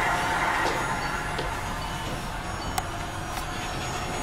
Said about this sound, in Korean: 요거 이제 미니 기차입니다